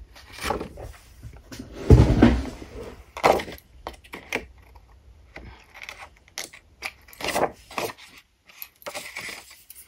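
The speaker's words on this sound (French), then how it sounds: "on finit donc de découper nos bords ici, comme ceci, voyez." Scissors trimming the edges of paper circles for a golden Christmas ring, a string of crisp snips and rustling paper handling, close and irregular.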